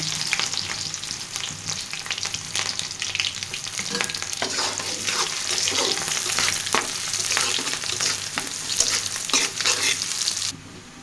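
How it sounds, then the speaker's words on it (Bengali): Chopped onion and green chili frying in hot oil, a loud continuous sizzle with repeated stirring scrapes and clinks running throughout, ending abruptly. "এবার আমি এখানে পেঁয়াজ কুচি দিব, কাঁচামরিচ দিব। এগুলোকে ভালো করে ভেজে নিব।"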